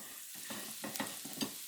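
Garlic and ginger frying in a wok over low heat, a soft steady sizzle broken by several quiet scraping stirs at a gentle, uneven rhythm.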